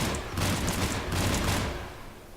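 Weapons fire in a rapid, dense burst of shots during a firefight in the Mass Effect video game, loud and continuous for about two seconds before thinning out.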